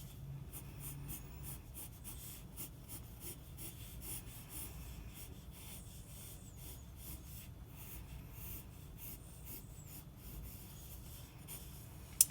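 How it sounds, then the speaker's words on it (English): A pencil drawing lightly on paper makes faint, repeated scratching strokes that continue through the whole stretch in a quiet room. "Draw lightly so that you can erase later on."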